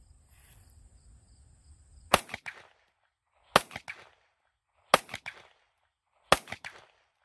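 Four sharp, evenly spaced shots from a Taurus GX4XL 9mm pistol firing Ammo Inc. 115 grain hollow points at a range, each crack followed by a short echo, after a quiet start.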